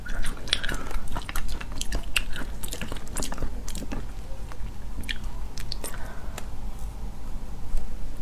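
Close-up biting and chewing of a crisp, faintly sweet raw food with a firm texture, giving repeated sharp crunches in an uneven rhythm, loud and near the mic throughout.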